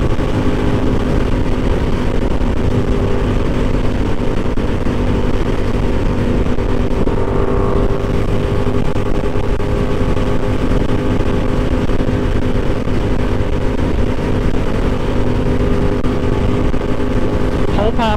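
A Yamaha YZF R7 pulls along in fifth gear, its engine a loud, constant drone mixed with heavy wind rush, close and unbroken throughout.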